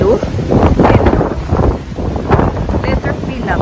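Strong wind blows outdoors in loud, steady gusts with roaring buffeting, while voices talk over it.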